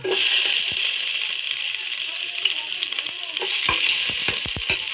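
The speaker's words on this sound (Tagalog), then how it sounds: "So, unahan natin paglagay yung ating bawang." Garlic sautéing in a little cooking oil in a pot for fish sinigang, a bright steady sizzle punctuated by sharp metallic clinks and scrapes of a spoon stirring, close and loud.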